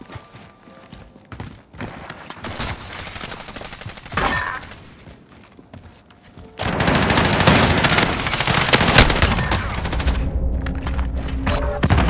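Gunshots in the Modern Warfare video game crack out in scattered shots at first, then swell into a loud, continuous barrage in the second half, with little talk.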